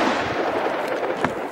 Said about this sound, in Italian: Spariamo con la chiappa M1 9 mm